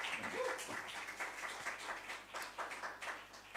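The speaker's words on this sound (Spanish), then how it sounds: "Damos paso, un aplauso a Avelino." An audience at a round-table discussion on art and activism claps for a speaker, steady faint applause heard from a distance in a hall with no talking.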